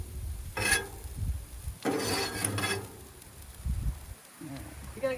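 Metal spatula scraping across a Blackstone flat-top griddle beside pushed-aside vegetables, with several short raspy scrapes, a longer sustained scraping burst in the middle and a few quieter strokes after it.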